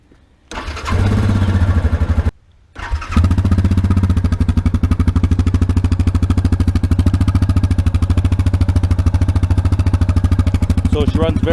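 Yamaha Grizzly 700 Special Edition ATV engine cranking and catching twice, then settling into a steady, close, loud idle with a rapid even putter that runs on without pause.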